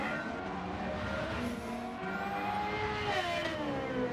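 A Suzuki VGT race car in Gran Turismo 7 screams at high revs in a steady drone with shifting pitch, a constant game engine sound with no talking.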